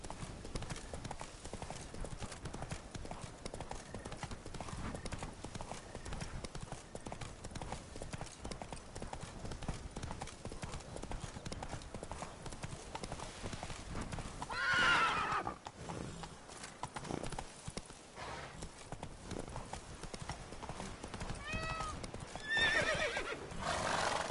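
In The Witcher 3: Blood and Wine, a horse gallops with a rapid, steady clip-clop of hooves and lets out two neighs near the end, while someone speaks to urge it on.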